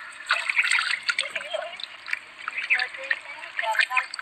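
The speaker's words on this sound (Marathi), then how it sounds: "साफ करून घेणार पाण्यामध्ये" Fish pieces rinsed by hand in a basin of water in a village kitchen, with steady sloshing, trickling and splashing close by throughout, sometimes louder in bursts, while a person talks softly in the background.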